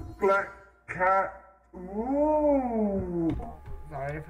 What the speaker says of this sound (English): Ooh, black cat.